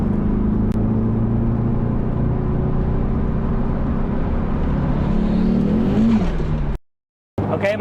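A 500 hp car accelerates at full power, a loud sustained engine roar rising in pitch over several seconds before the sound cuts out abruptly, then briefly returns.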